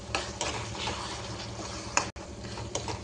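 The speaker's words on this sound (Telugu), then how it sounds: "కారం మొత్తం మెల్ట్ అయ్యేలాగా కలుపుకోండి కర్రీలో" A curry being stirred in a pan after chili powder goes in, the spoon scraping and the sauce sizzling in a steady, close-up rhythm with a few louder scrapes and no talking.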